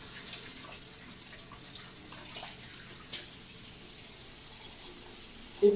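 Water running from a tap into a sink while a face is wet to rinse off a facial cleanser, a steady broadband rush at moderate level with a few small splashes and no talk.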